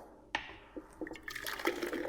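Liquid poured over ginger in a French press: a few soft splashes and drips at first, then a steadier gurgling, filling trickle, close and fairly quiet, with no talking.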